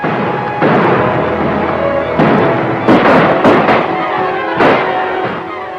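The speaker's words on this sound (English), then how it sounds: "A lot of shooting going on out there." Gunfire in an old western film: a loud, close series of sharp shots and booming bursts, some bunched together, ringing out over several seconds with no talking.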